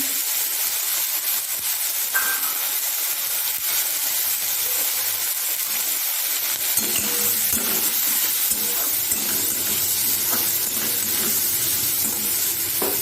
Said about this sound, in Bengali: মশলাটা কষে নিয়ে